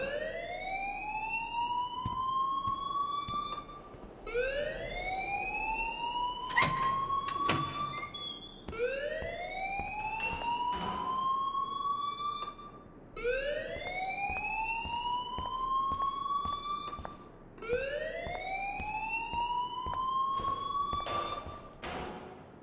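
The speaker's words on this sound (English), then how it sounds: "please turn off that alarm since that's your job" A school fire alarm in the video game Life Is Strange wails in repeated rising sweeps, five or so evenly spaced cycles, loud and steady throughout, with a few brief clicks and clatters between cycles.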